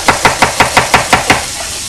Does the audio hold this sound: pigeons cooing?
no